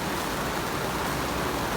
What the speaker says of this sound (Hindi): अर्ली मॉर्निंग ऐसी बारिश कंटिन्यू हो रही बारिश।